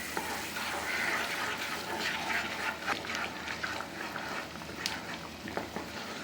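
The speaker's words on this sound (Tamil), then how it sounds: "இப்போ தண்ணி நல்லா கொதிக்குது." Water boils hard in a cooking pan while a sweet is being prepared, giving a steady, busy bubbling and hissing with small pops throughout. It is fairly quiet and no one speaks.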